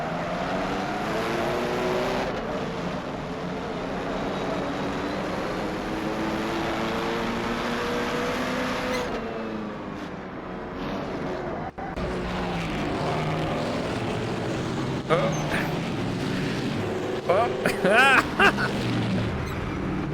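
A 1939 Grand Prix race car engine roars in a racing video game at Rouen les Essarts, revs rising and falling through gear changes, dropping sharply near a hairpin, with talk over it.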